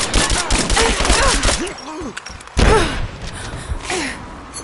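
Gunfire in Rise of the Tomb Raider on PS5 cracks out in a few loud shots and bursts, mixed with gasps and strained breathing from a character and other close action noises.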